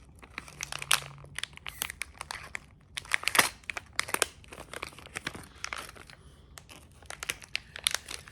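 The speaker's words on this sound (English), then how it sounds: "So we're going to come in and cut the bag." Scissors snip and tear through a strong little gray plastic packaging bag, with close, loud crinkling and crunching bursts spread irregularly throughout, with no talking.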